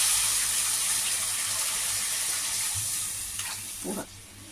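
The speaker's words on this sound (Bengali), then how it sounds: "এবার আমি জল দিয়ে দেবো" Water poured into a pan of spiced tengra fish curry, a steady close hiss and gush of liquid hitting hot oil that fades near the end with a brief splash.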